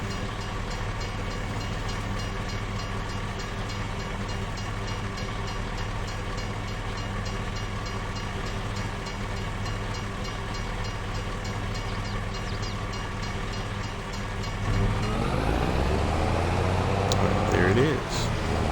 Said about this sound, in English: I'm hitting the train every time